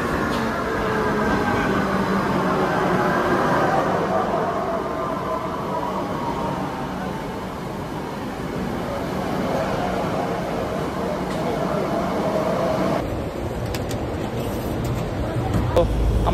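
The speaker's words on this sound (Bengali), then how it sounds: "আমরা মেট্রো স্টেশন থেকে বের হয়ে গেলাম" A Kolkata Metro train rumbles through an underground station, a loud sustained roar and rattle with a shifting pitch, joined late by a high electronic tone.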